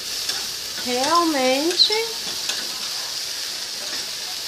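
Okra frying in a pan while being stirred, a steady broadband sizzle running throughout with a voice speaking over it briefly near the start.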